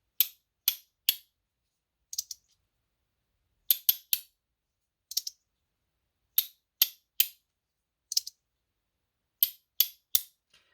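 Sharp, crisp clicks from Compiform products sound close and alone, arriving singly and in quick pairs or triples with silent gaps between them.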